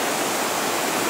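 The flooding Razdolnaya River flows past, a steady, loud, dense rushing of water with no pauses, heard up close and alone.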